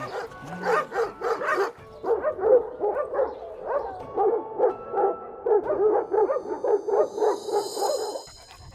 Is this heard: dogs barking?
yes